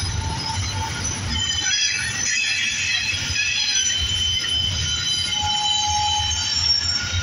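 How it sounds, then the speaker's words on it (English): Heavy train rumble from hard-working freight locomotives in El Paso, Texas, with loud metallic wheel squeal and continuous low engine roar, sustained and close throughout. "The locomotives are working hard, very, very hard."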